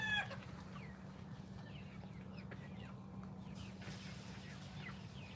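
Chickens and a rooster on a farm, with a steady low barnyard hum and scattered faint clucks and calls in the background, no talk.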